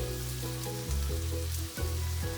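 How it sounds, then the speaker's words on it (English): Pork sizzles and spits in a hot pan as it is stir-fried, a steady frying hiss broken by a few scraping stirs and tosses, close and fairly loud with no voice. "Let the heat increase again and keep everything moving around to cook evenly."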